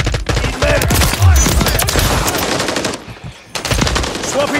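Rapid automatic gunfire from Call of Duty: Modern Warfare 3 multiplayer, loud and dense bursts of firing with in-game chatter running underneath and a short lull near the end.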